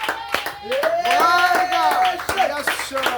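A church congregation claps and shouts acclamation to the Lord during a sermon, with rapid loud nearby handclaps under raised, sustained voices.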